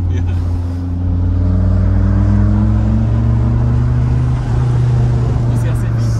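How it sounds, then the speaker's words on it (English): Maserati Shamal accelerating hard, a loud steady engine drone with rising turbo whine throughout, recorded from inside the car with faint talk underneath. "You hear the turbos go?"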